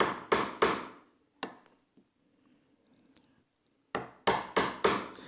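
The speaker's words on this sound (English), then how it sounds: "I'll come back in with a smaller chisel and slightly undercut this down to about the halfway point" Sharp, close strikes on a smaller chisel undercutting a hand-cut half-blind dovetail in wood, a quick group of three hits, a lone blow, a quiet pause with light scraping, then a brisk run of five more.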